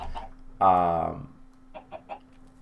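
A chicken in Minecraft Sky Factory 3 gives a short run of stuttered clucks, then a few quieter clucks, all clear and close over a steady low hum.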